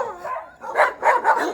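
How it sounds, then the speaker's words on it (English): Dogs barking outdoors at a home, a whiny yelp followed by three loud, close barks in quick succession. "Dogs."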